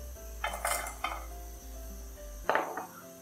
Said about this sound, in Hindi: अब इसमें हम डाल देंगे साबुत गरम मसाला और बादाम छिलका उतार के